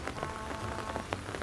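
Steady rain falling on a farm in Negros under dark skies, a dense even patter of drops on surfaces with a few sharper splashes, continuous and fairly close with no talking.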